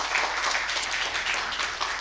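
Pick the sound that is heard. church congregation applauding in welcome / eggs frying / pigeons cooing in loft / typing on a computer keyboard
church congregation applauding in welcome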